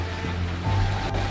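A low, steady drone of boat engines approaching at sea hums under the wash of water, its pitch rising slightly as it grows a little louder.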